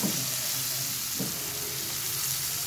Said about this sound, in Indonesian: Pertama-tama tumis bawang putih hingga harum.